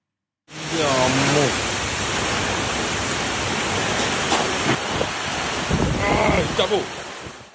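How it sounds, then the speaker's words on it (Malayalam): Loud, continuous roar of strong afternoon wind and rain in Malappuram district, Kerala, fills the clip, with rushing gusts and a voice briefly heard near the start and end. "ശക്തമായ കാറ്റോട് കൂടിയ മഴ ആരംഭിച്ചത്"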